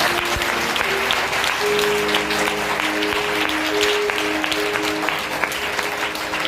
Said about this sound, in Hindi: तालियां तो बजाओ।